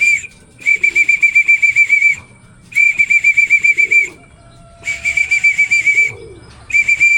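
A shrill trilling whistle is blown repeatedly to call racing pigeons home, sounding in several long bursts with short gaps, loud and close, with faint wing flutters in between.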